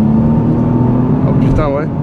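Heard from inside, an engine-swapped Lexus sedan accelerates hard on kick-down with a loud, steady rumble, and a voice speaks briefly near the end.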